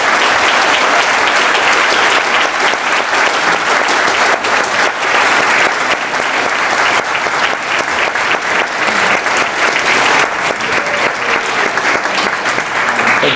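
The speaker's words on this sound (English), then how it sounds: "Let's please give them all a big round of applause" Sustained, dense applause from a large audience at an annual charity dinner honoring award recipients, loud and steady throughout with no pauses.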